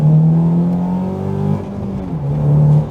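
A Honda Accord Euro engine hums and revs up close, pitch rising and falling in a couple of surges with no talking.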